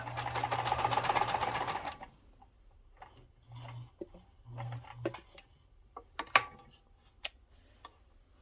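A Kenmore 158.13400 sewing machine runs a zigzag stitch in a steady mechanical whir for about two seconds, then falls quiet apart from short motor bursts and scattered clicks and ticks of the mechanism.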